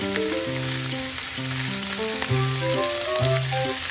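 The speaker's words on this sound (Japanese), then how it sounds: "ニンニクの芽も入れます。 野菜と一緒に炒めます。" Beef offal stir-fried in beef tallow with garlic scapes and vegetables sizzles loudly and steadily for the whole stretch, with no talking.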